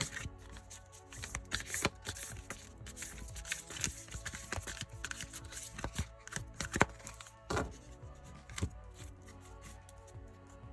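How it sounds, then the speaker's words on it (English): Oracle cards are shuffled close by in quick riffling bursts with soft taps and slaps, repeated over several seconds with no talking. "I'll do is shuffle the deck and then cut the deck."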